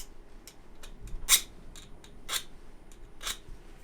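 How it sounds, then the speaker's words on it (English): A file scraping metal to mark it, a few short, sharp rasping strokes spaced irregularly, close and fairly quiet in a calm workshop. "Just marking it with a file."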